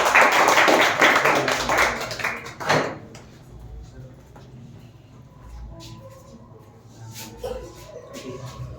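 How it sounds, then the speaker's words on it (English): A classroom claps for a departing teacher at a farewell session, a loud burst of applause for about three seconds that quickly dies to scattered taps and quiet room noise. "So please clap for him."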